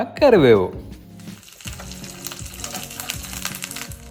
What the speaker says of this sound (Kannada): ಸಾಸಿವೆ ಚಟಪಟ ಅಂತ ಹೇಳಿದ್ಮೇಲೆ ಇದಕ್ಕೆ 1 ಟೀ ಸ್ಪೂನ್ ಅಷ್ಟು ಜೀರಿಗೆನೂ ಹಾಕೊಂಬಿಡೋಣ